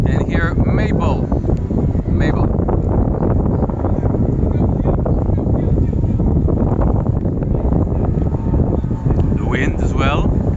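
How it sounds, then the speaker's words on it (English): Wind blows outdoors, buffeting the microphone with a constant loud rushing roar, while a person talks intermittently over it during an ice cream eating session. "Wind as well."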